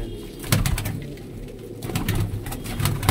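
Pigeons coo softly in a loft, their low repeated calls overlapping amid steady background rustle and bird noise, with no talk.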